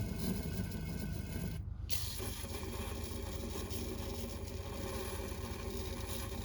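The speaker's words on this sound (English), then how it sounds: "this seems to be spraying a lot easier than I thought it was going to be" Aerosol cleaner sprayed onto the carburetor of a 1951 Chevy engine, a steady close hiss running the whole time with one brief break early on, no voices.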